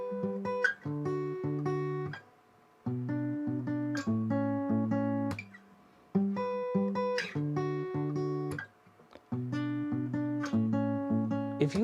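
Acoustic guitar playing the chords of the A section of a song as separate sustained hits rather than strumming, with rhythmic groups of chords broken by short pauses, close and quiet with no voice.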